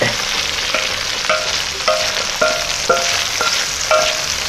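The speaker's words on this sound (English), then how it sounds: "We'll stir that around. Make sure all the uh, potatoes get that grease on it." Onions and potatoes stirred in grease on an outdoor cooking disk: a loud steady sizzle with a regular series of scraping strokes about every half second, close up and without talk.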